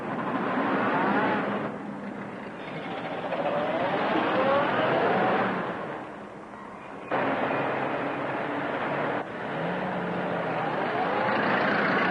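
A 1930s car drives off near a country house, its engine rising steadily and holding loud for several seconds, then briefly dipping before continuing at a strong, even level.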